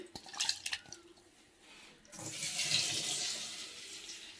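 Water runs from a kitchen tap as tamarind is washed under it, starting with a few splashes and clinks, then settling into a steady, soft gush of flowing water.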